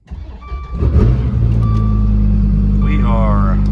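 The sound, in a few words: Dodge Viper engine cold start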